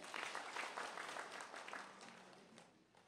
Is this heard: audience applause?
yes